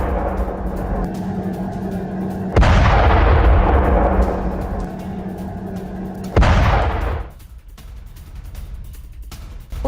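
Two heavy booms from a Houthi missile attack over Saudi Arabia, each a sudden loud blast with a long rumbling decay, spaced several seconds apart over a continuous low background roar.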